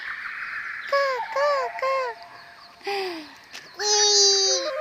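A young child makes a series of short, high, sliding vocal cries imitating a crow's caw, in bursts with pauses between them.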